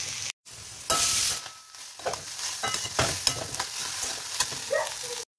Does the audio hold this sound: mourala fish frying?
yes